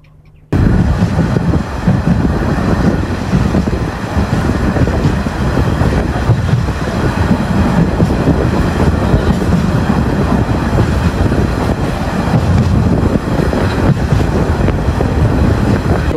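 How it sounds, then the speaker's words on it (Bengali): The Probal Express train running into Dohazari station, a loud, continuous rumble and rattle of the moving carriages with wind buffeting, heard close from on board after a brief quiet start. "ঘড়িতে এখন সময় 1:53 আমাদের ট্রেন এসে পৌঁছালো হচ্ছে দোহাজারী স্টেশনে।"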